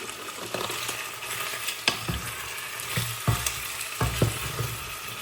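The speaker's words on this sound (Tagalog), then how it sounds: "Ito yung niluluto kong chicken." Chicken fries in a pan with a steady close sizzle, broken by a few louder spits and pops and occasional knocks as the pieces are moved, with no talking.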